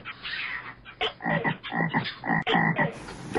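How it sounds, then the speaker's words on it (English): Frogs croak at night in Halong Bay, a loud near chorus of rapid ratcheting calls in repeated bursts, with brief gaps between them and no voices. "bliss out yourself in a perfect soundtrack of nature at night with geckos, frogs, and gibbon sounds"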